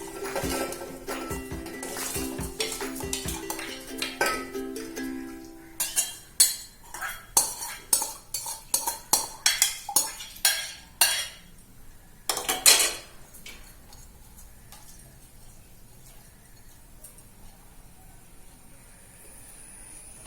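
Rice being stirred into a pot for Kerala-style fish biriyani, a run of close metallic clinks and scrapes of a spoon against the pot, then quieter hiss.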